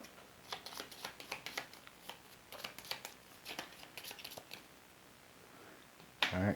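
Playing cards being shuffled during a solo session of This War of Mine: The Board Game, a series of quick riffling bursts close by, ending in a louder sharp rustle.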